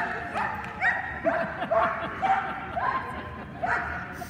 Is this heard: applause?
no